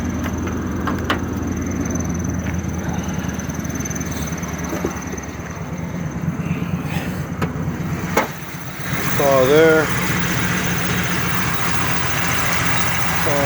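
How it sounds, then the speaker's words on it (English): A 1989 Chevrolet Camaro's engine runs at a steady idle, a low continuous rumble with some wind noise, while someone talks briefly near the end. "Hear the car's running"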